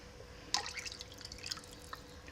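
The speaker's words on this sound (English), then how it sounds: "let me add the animal rennet" Animal rennet dripping into heated milk for homemade mozzarella, a quick run of small bright drips and plinks over a second or so, faint and close, with no voices.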